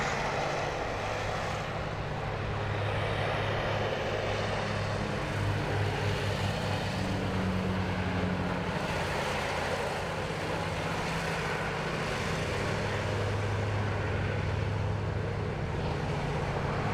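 A Qantas Q200 turboprop departs Sydney Airport. A continuous propeller and engine drone carries a low, throbbing hum that pulses unevenly at a moderate distance.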